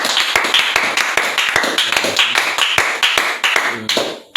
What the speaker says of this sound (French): On acclame pour la gloire du Seigneur.